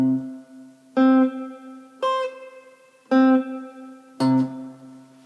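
Single guitar notes from a pentatonic scale ring out one at a time, five plucked notes spaced about a second apart, each with a sharp attack and a short decay. They play alone and clearly, with no talking.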